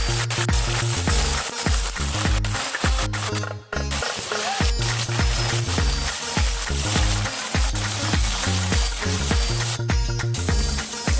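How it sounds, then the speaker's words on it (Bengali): Onions frying in hot oil while being browned, a steady loud sizzle that runs continuously over a rhythmic, thumping music backing with a brief dropout midway. "পেঁয়াজগুলো ততক্ষণ লাল লাল করে ভাজা হোক"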